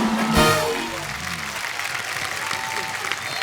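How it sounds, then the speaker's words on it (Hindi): An audience applauds Govinda at a comedy show, a loud, continuous wash of clapping with crowd noise and a voice heard briefly near the start. "जोरदार तालियां गोविंदा सर के लिए।"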